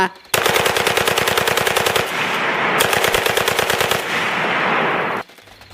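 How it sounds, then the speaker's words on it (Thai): Rapid automatic gunfire from a battle scene in a Thai audio drama about the Opium War at Phu Hin Tang, heard as loud, dense machine-gun bursts that run almost continuously with brief breaks. "เสียงปืนยิงสวนลงมาแน่นหนายิ่งกว่าเดิม"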